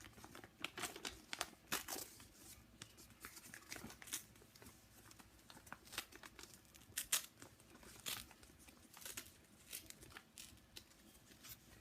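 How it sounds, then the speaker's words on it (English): A sheet of origami paper is torn along a fold line, quiet close crinkles and short tearing rips scattered across the span, soft and intermittent. "Now I'm going to just rip it along that line."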